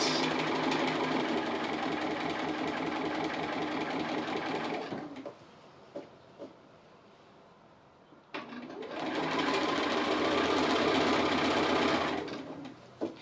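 A sewing machine stitching an appliqué house design runs in a long steady whirring burst, stops for a few seconds of near quiet with a couple of small clicks, then starts again in a second continuous run, close and alone.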